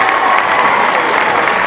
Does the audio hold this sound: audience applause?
yes